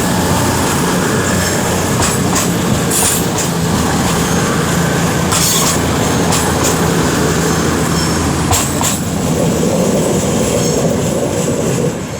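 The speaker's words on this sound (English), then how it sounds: "This is the quietest Voyager I have ever heard." A Voyager train runs through Wolverhampton station on the West Coast Main Line, a loud continuous rumble of wheels on rail with repeated clicks and faint squeals as the carriages pass close by.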